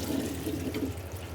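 Water runs steadily from a tap into a sink while masa ingredients are rinsed until clear for tamales, a continuous close splashing flow with no talk over it.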